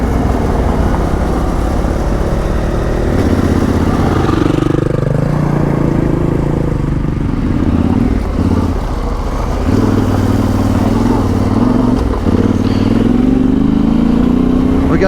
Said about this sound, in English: We got John riding the KTM 350 today.